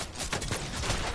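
Sniper rifle fire in a shooter video game: a short, dense stretch of rough gunfire noise with overlapping bursts and no clear gaps, fairly loud throughout.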